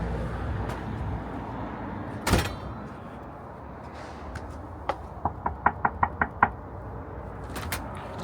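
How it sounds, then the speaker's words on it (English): Knuckles rap on a front door of a newly bought house, a quick run of about eight sharp knocks near the end, preceded by a louder bang and soft rustling. "you have to knock on the door"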